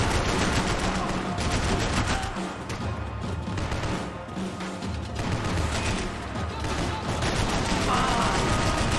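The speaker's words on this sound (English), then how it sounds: "I can't concentrate with bullets when you pass my head!" Dense, continuous gunfire in a Max Payne 3 firefight, with rapid bursts and bullets whizzing past close by, a steady loud barrage throughout.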